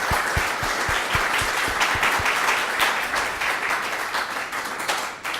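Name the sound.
audience applause after a talk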